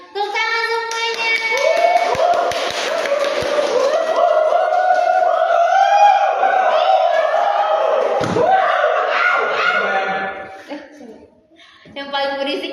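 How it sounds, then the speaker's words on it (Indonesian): An audience claps hands in welcome at an informal gathering, with bright, sharp hand slaps heard under and between loud talk and laughter from those present. "Tepuk tangan semuanya."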